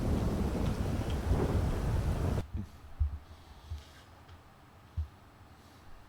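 Heavy rain pours down loud and steady during a thunderstorm, then cuts off abruptly, leaving a quiet background with a few faint low thunder rumbles and soft thuds.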